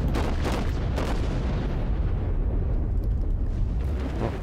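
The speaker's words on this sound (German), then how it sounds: "Und ich schieße nochmal auf die Nagato." Heavy main battery guns of a Japanese battleship fire in a naval combat game, several deep booming blasts rolling out over a rumbling, continuous low-end wash.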